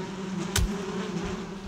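Bees swarm a beehive in Valheim with a continuous buzzing drone, broken by one sharp hit on the hive and a dull thump just after.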